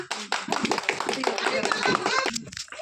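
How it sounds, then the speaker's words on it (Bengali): Loud applause from a studio audience at a Bengali game show, dense rapid claps with some voices mixed in, lasting nearly three seconds. "জোরে হাততালি"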